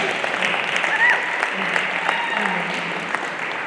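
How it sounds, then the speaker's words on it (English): Audience clapping at a community-safety forum in West Seattle, a steady wash of applause from a room of people lasting several seconds, with faint voices mixed in. "Yes, we should clap for Tracy, I agree."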